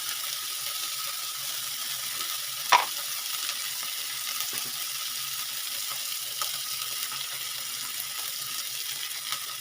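Spice paste with turmeric, onion and a splash of water frying in a pan for a Bengali prawn dish, a steady soft sizzle with occasional scrape of a spoon stirring, close and continuous.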